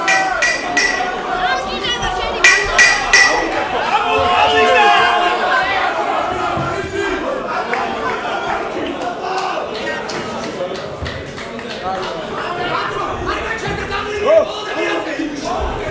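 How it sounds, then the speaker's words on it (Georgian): A crowd at a championship fight cheers, shouts and claps steadily throughout, with loud, dense crowd noise and excited voices rising near the start. "აპლოდისმენტები. გავამხნევოთ."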